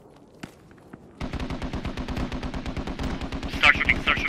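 Video game gunfire in a squad-based battle, starting with a few scattered single shots and then breaking into sustained rapid automatic fire, dense and close, with a louder burst toward the end.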